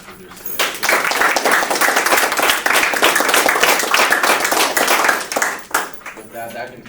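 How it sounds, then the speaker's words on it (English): Audience applauding guest speakers at the close of a university meeting, a sustained round of clapping from a crowd that swells quickly, holds steady, then tapers off at the end. "I just want to give one more round of applause to our guest speakers today."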